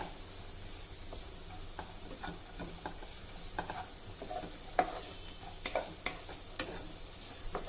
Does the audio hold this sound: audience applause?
no